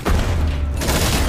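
Dense gunfire from a film battle as fighters shoot at aliens while fleeing, a continuous loud barrage with deep booming low end and no voices.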